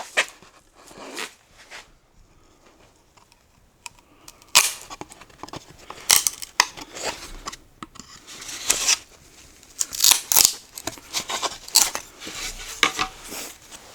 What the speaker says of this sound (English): I may be able to get that out using a chisel.